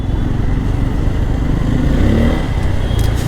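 A motorcycle cruises along a road on a long morning ride between Pondicherry and Yelagiri, its engine droning loud and steady with wind rush throughout.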